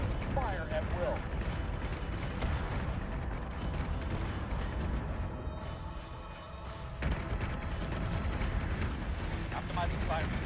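A warship's secondary battery fires continuously in a Battlestar Galactica space battle game, a dense, loud barrage of booming shots over a low rumbling bed with a brief lull midway before the fire resumes.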